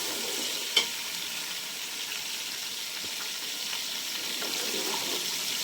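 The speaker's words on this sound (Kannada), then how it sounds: "ಎಣ್ಣೆಲಿ ಆ ಥರ ಚೆನ್ನಾಗಿ ಫ್ರೈ ಮಾಡಿ, ಎಲ್ಲ ಮೆಂತ್ಯ ಸೊಪ್ಪೆಲ್ಲ ಎಣ್ಣೆಲಿ ಫ್ರೈ ಆದಮೇಲೆ ಟೊಮೆಟೊ ಹಾಕ್ಕೊಳ್ಳೋಣ." Fenugreek leaves frying in oil for a country-style chicken biryani, a steady close sizzle with occasional stirring scrapes and one sharp clink near the start, no talking.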